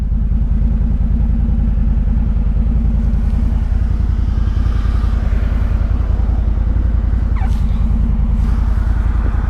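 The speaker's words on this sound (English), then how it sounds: "Truck coming out of the road." A truck's engine rumbles loudly and steadily close by as it pulls out onto a road, with no voices.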